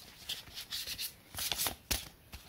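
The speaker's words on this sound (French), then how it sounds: "on peut en profiter pour mélanger les cartes." Tarot cards shuffle in soft, papery riffles and brisk slides, a close series of rustling bursts with no talking over them.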